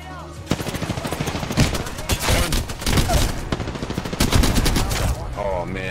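Rapid bursts of light machine gun fire in the shooter game Apex Legends, loud and close, with sustained automatic volleys running almost the whole time.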